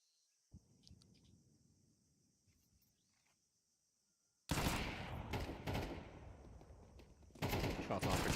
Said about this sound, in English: Shots on for JKS. He's got the kill.